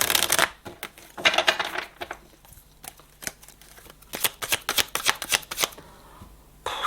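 A deck of cards is shuffled up close for a second draw, with quick bursts of riffling and sharp flicks of cards in an uneven rhythm and short pauses between them.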